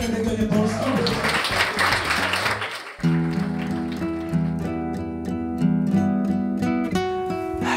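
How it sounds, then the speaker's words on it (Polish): Applause fills the first three seconds at a Poznań food program, a dense clatter of many clapping hands, before cutting abruptly to bright music. "Oklaski"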